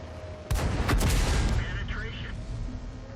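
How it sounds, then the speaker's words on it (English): A Matilda IV tank's main gun fires in World of Tanks on the Ruinberg map: one sharp, close blast with a brief crackling tail, followed by quieter engine rumble and small mechanical clanks. "So I'm going to shoot and reverse to reload."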